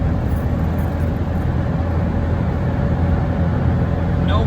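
An Autozam AZ-1 cruises at 120 km/h, its engine a steady broadband drone mixed with road and wind noise, continuous and fairly loud throughout.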